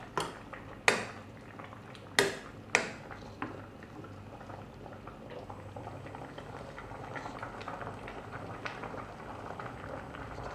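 A pot of bamboo shoot curry bubbles steadily on the heat, a continuous simmering gurgle with a few sharp clanks of a utensil against the pot near the start.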